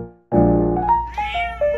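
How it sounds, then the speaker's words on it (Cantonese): A domestic cat lets out one drawn-out meow close to the microphone, its pitch wavering upward and falling back over about a second and a half, alone and clear. "經常叫嘅貓，佢哋會習慣用喵喵聲同顫音嚟同你溝通"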